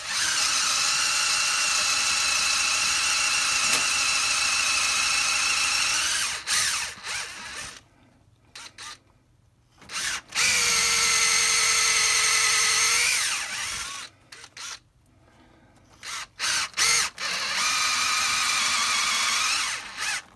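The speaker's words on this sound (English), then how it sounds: "This is a steel drill bit. And the resin kills it." A power drill with a steel bit drilling into resin on a lightsaber build whines steadily in bursts, stopping and restarting twice with short pauses between runs, loud and close.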